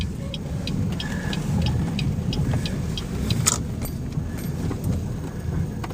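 A small black car rolls past on a residential street with a low, steady road rumble, fairly close, with a few faint clinks and ticks and no voices.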